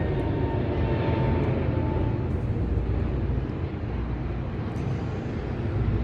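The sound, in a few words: airplane flying overhead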